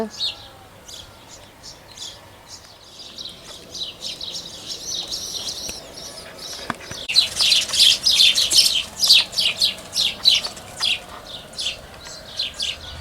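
Lively bird chirping and song in a backyard garden, sparse at first, then a dense burst of rapid tweets rising in loudness near the end.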